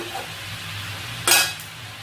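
A lid is set on a cooking pot in a home kitchen, giving one short metallic clink over a low sizzle of simmering vegetables.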